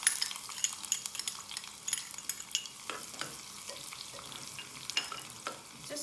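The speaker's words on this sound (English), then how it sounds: "You can hear the popping noise." Frying in a pan while cooking Kerala-style shrimp in creamy coconut sauce, with soft sizzling and a quick, irregular run of small pops and crackles, close by and fairly quiet.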